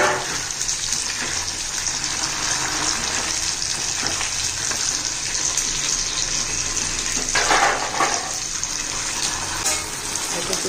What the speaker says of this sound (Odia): ଏଠି ପିଆଜ ଫ୍ରାଏ ହେଉଛି।